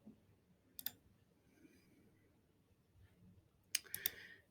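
Faint mouse clicks while saving settings in a software tutorial: one click early, then a cluster of two or three clicks near the end, over quiet room noise.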